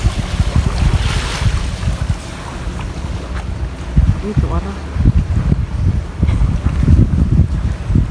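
Gusty wind buffets the microphone with low rumbling bursts while sea waves wash nearby; a voice speaks briefly amid the noise.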